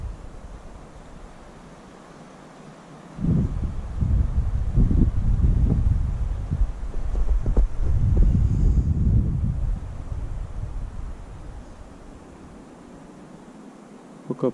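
Gusts of wind in a forest buffet the microphone in rumbling bursts, rising and falling over several seconds before easing to a quieter hiss.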